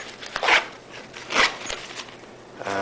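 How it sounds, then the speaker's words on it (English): Two quick zipper pulls on the pocket of a Maxpedition TacTile Medium pouch, close and crisp, separated by a short pause, with a faint rasp at the end. "There's a zipper pocket."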